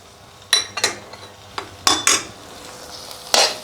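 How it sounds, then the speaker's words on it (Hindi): A spoon scraping and knocking in a frying pan while green chillies are mixed for an omelet, about six sharp metallic clinks in an uneven rhythm, close and clear with no talk. "अब हम इसको अच्छी तरह मिक्स कर लेंगे और 1 से 2 मिनट तक इसको मज़ीद फ्राई कर लेंगे।"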